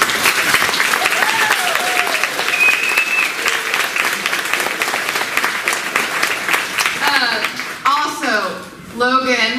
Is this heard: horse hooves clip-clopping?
no